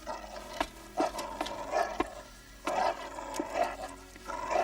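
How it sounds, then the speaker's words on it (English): Guard dogs in a children's animated Cinderella film growl and snuffle in a series of rough, loud bursts, close by, with no talk over them. "Hey, what are Zarel's dogs doing here?"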